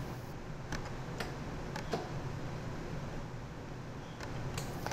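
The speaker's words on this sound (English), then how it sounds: "You should hear the sound of the valves opening and closing." The valves of an automated ultrafiltration device click open and shut in a series of sharp, irregular ticks over a steady low machine hum.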